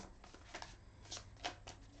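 Tarot cards being shuffled by hand, a faint, soft riffling with a few brief bursts of papery friction, heard alone and very quiet.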